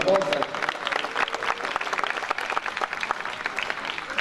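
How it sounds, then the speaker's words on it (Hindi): Churchgoers at a Passion of Christ program clap in a lively, continuous burst of applause, crisp individual claps blending into a steady roar, with brief speech at the start. "उनका भरपूर तालियों में जी शुक्रिया"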